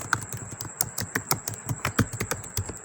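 Someone types on a computer keyboard nearby: quick, uneven clicks and taps in short bursts, crisp and close, with no voices.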